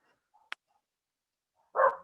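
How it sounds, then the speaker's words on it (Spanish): A dog gives a short, sharp yip and then, after a quiet pause, one fuller bark. Both sounds are fairly faint and close against near silence. "a empezar a ladrar mi perro ahora."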